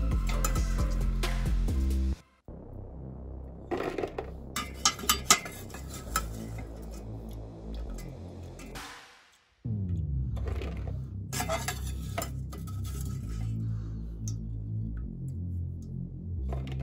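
Pine cones tumble into a metal pot for pine-cone jam, giving a rattling clatter of knocks and clinks, a pause, then more scattered tumbling, moderately loud with no talk.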